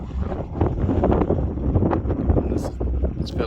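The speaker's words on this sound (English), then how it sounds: "It's fairly gusty kind of conditions too" Gusty wind buffets the microphone on the open Nullarbor Plain at dusk, loud irregular low rumbles surging and easing with faint rustle above.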